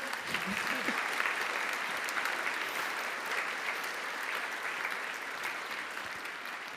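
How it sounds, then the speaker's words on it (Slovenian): An audience at a formal hospital gala of the University Medical Centre Ljubljana gives sustained, dense applause, many hands clapping steadily and close for several seconds with a brief voice near the start. "Naj bo ta aplavz za Valentina, pa tudi za vse vas."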